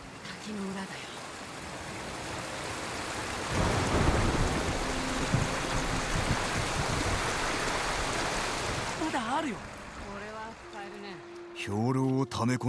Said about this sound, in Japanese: 滝の裏だよ